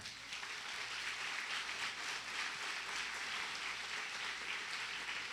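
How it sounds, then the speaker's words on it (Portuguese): A church congregation claps steadily and loudly, a dense sustained wash of many hands applauding together with no voices heard. "Aplauda bem forte ao Senhor."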